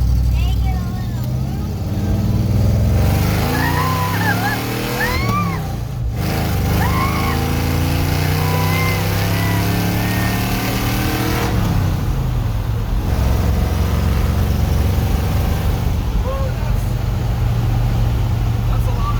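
A 1978 Ford F150 pickup engine roars loudly and steadily up close, pitch climbing and falling as it revs, with heavy vibration rumble; people talk over the engine.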